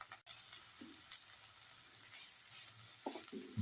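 Rice flakes, raisins and coconut stirred in a pan with clarified butter over a high flame, giving a steady soft sizzle with a few scraping stir strokes, close and continuous with no talk.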